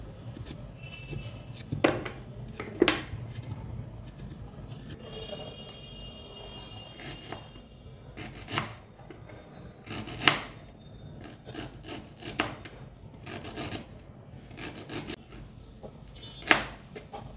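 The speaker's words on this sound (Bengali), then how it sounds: "প্রথমে আদার খোসাটা ছিলে নিয়ে ছোট ছোট করে কেটে নেব।" Peeled ginger being chopped into small pieces for a ginger, lemon and salt drink, heard as scattered knife strikes and scraping rubs on a board, with a few sharper taps standing out over a soft background and no talking.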